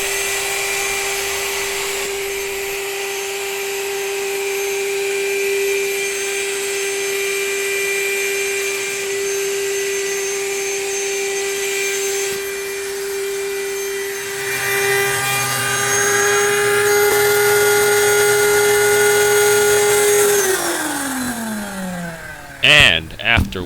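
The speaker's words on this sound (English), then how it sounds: "We're going to inflate the airbed and see how long it takes." An electric pump hums steadily while inflating a Coleman Supportrest Elite air bed, a constant drone that strains and rises in pitch as the bed fills, then winds down and stops with a few clicks at the end.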